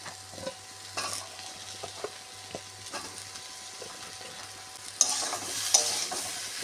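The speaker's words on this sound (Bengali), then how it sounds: "আলু দিয়ে মশলাগুলো কচানো হয়ে গেছে এবারে ঝিঙে দিয়ে দেবো" Ridge gourd and potatoes with spices fry in a pan, quietly stirred with intermittent scraping strokes; the sizzle grows louder and brighter near the end, with no talking.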